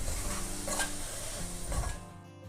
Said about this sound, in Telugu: ఇప్పుడు దీంట్లో పసుపు వేసుకొని కొంచెం చింతపండు వేసుకొని కలుపుకోవాలి